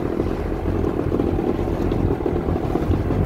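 A Sea-Doo personal watercraft engine runs steadily on the North Saskatchewan River, a continuous low rumbling drone at even loudness with no voices.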